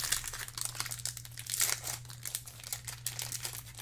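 Plastic wrapper on a Time Spiral Remastered trading card box crinkles and tears as it is pulled open by hand, a busy, close stream of rustling crackles over a faint steady hum.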